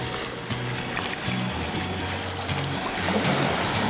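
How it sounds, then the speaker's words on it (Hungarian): Footsteps wade into the sea over a pebble beach, with shifting stones and sloshing water under a steady wash of waves, close and moderately loud. "végre itt lépdelhetek a tengerben"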